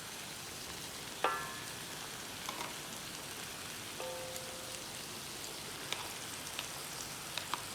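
Crab, prawns and squid frying in a pan for a Sri Lankan shell-out seafood dish, giving a steady soft sizzle and crackle like light rain, with a few faint clinks and taps on top.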